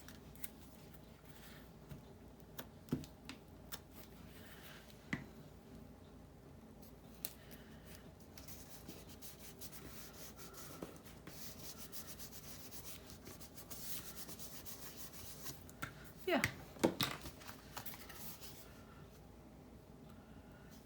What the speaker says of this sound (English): I'm going to use the stick glue on this because it is mostly on the paper